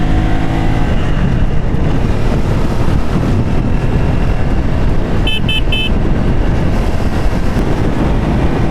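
A Triumph Speed 400 motorcycle riding on a busy highway, its steady engine roar blended with heavy wind rush and a brief burst of horn honks from traffic.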